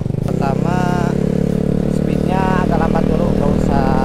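A Yamaha Mio motorcycle ticks over at low speed, its steady mid-pitched engine drone running throughout while people talk loudly over it.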